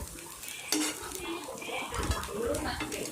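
Egg Manchurian with coriander leaves is tossed and stirred in a hot pan, with a metal spoon scraping and clinking against the pan over a soft sizzle, and a voice talking now and then.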